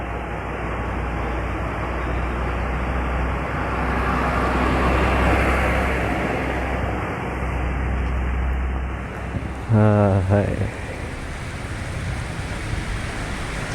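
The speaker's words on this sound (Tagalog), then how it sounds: "Lalong uh, lumakas yung buhos ng ulan" Heavy rain pours steadily onto a roadside shelter where motorcyclists wait, a broad, constant hiss with rumbling wind-like noise underneath; a brief word of greeting is spoken partway through.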